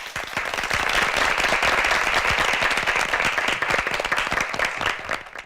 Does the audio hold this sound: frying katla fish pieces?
no